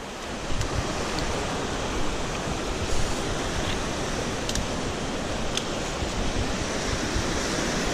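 Deep current of a river on a trek toward Gurgeniani waterfall, a constant broadband rushing of water with wind buffeting the microphone, steady throughout with no voices.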